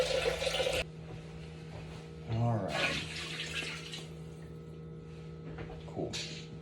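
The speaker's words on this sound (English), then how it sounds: "so I'm going to add a little bit more water." Tap water runs into a pot of bones being topped up for broth, a steady broadband gush lasting a couple of seconds at close range, with a brief spoken remark beside it.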